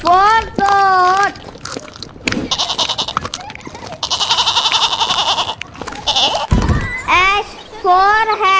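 Goat bleats in a children's phonics song, repeated wavering calls at the start and end, with loud sung voices and music filling the middle.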